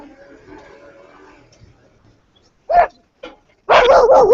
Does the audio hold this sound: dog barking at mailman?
yes